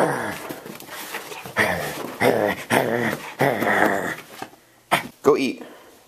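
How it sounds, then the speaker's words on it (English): A pet dog makes a run of close, vocal whines, whimpers and low growly grumbles in uneven bursts, like it is talking back, loud and near with brief pauses between sounds. "She's such a good dog."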